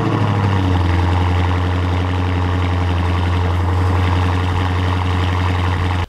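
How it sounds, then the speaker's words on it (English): A Dodge Challenger with a stock header, stock catback and mid-muffler delete idles after a cold start, giving a loud, steady, close-up exhaust rumble that holds without pause for about six seconds, with no talking. "I'm going to give you guys one last cold start with this exhaust setup"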